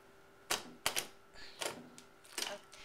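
A Bind-it-All binding machine punching holes in paper: several sharp clunks and crunches from the close hand-operated press, irregularly spaced, with a faint mechanical rattle between them.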